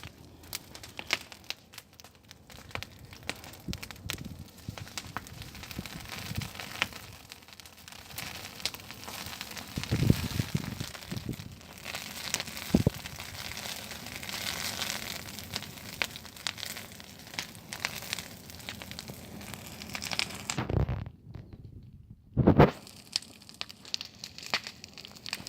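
Outdoor bonfire burning a pear tree, giving continuous soft crackling and popping at close range, with occasional louder snaps and a brief quiet gap near the end.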